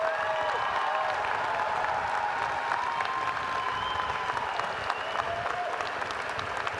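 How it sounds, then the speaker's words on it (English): A winter commencement crowd applauds graduate students with sustained, dense clapping, while faint cheers and whistles rise above the steady roar. "Let's give our graduate students a round of applause"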